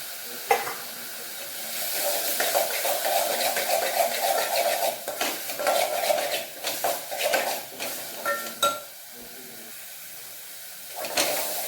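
Ginger garlic paste sautéing in a hot oiled pan for tomato rice, a steady close sizzle with repeated scraping stirs and spoon clinks on the pan throughout.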